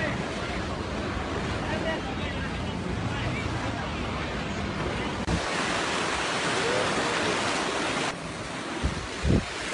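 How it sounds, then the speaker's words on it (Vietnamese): Ocean surf rolls steadily onto Pattaya beach in Thailand, a broad continuous wash mixed with gusty wind buffeting the microphone, with a brief louder thump near the end. "đây là bãi biển Pattaya, Thái Lan"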